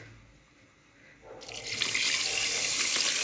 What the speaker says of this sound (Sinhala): දැන් අපි මේකට වතුර දාගමු.